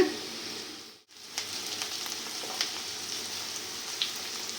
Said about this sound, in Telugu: ఉల్లిపాయలు వేగాయండి